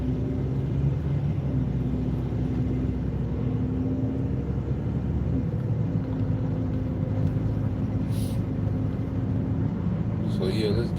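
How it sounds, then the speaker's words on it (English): Low steady engine rumble of a car creeping slowly in traffic, continuous and close throughout, with a faint passing sound near the end. "while I'm creeping in traffic."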